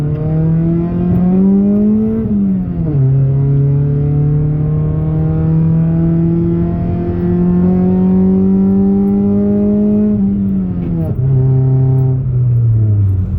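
A Honda D-series engine revs hard and loud with VTEC engaging, its pitch climbing in long sustained pulls with a few sharp dips and re-rises between them, close to the microphone and with no talking.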